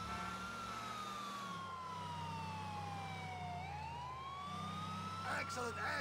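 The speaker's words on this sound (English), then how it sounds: "I don't know how to turn the sirens off." A police car siren in Grand Theft Auto IV: The Ballad of Gay Tony wails steadily, sliding slowly down and back up in pitch, over a low engine rumble, with a brief voice near the end.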